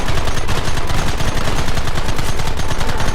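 Loud, continuous gunfire in Red Dead Redemption, a dense rattle of overlapping shots close up with no pause, like a sustained firefight.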